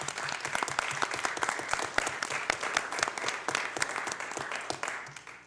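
A city council meeting audience claps for a police officer retiring after 33 years: dense, even applause at moderate volume, sustained from start to finish with no talking.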